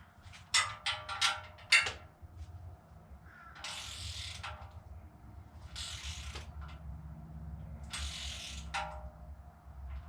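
A ratchet wrench tightens a 10 mm bolt on a 7.0 L 427 cubic inch LSX engine: a few quick clicking ratchet strokes up front, then three longer rasping bursts spaced a couple of seconds apart over a low steady hum.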